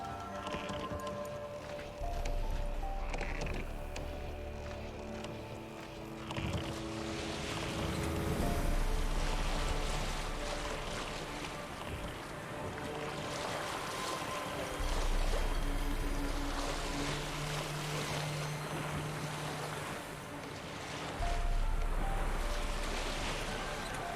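A boat travels across water in The Witcher 3 video game, with a continuous wash of waves, hull splashing and wind rising and falling over the whole stretch, no voices.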